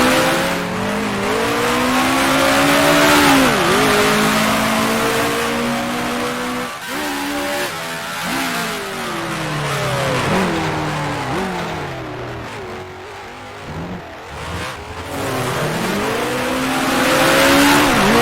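Engines of 1966 Formula One cars racing at the Monaco Grand Prix in the Grand Prix Legends video game, loud and close, pitch climbing and dropping through gear changes as they rev, with no pause.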